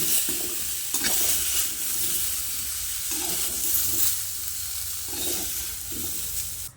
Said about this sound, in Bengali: কিছুক্ষণ এইভাবে ভেজে নেব দেখুন আলু কুমড়ো বেশ ভালো করে ভেজে নিয়েছি